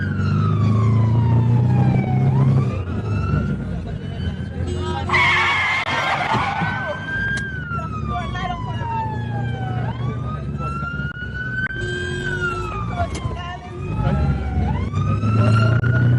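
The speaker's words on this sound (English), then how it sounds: "To beat the traffic and jump the lights, they travel on sirens." Wailing sirens rise and fall repeatedly over steady traffic rumble, with bursts of a harsher yelping tone, loud and close as a convoy drives through traffic.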